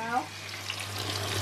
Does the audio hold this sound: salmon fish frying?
yes